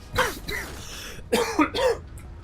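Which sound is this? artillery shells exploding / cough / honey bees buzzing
cough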